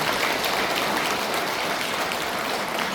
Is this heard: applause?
yes